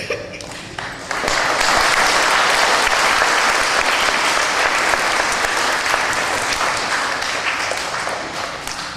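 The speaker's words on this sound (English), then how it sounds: "which we give him a round of applause for" Applause from the audience at a school Memorial Day program swells after a brief pause into loud, dense, sustained clapping, with no talk over it.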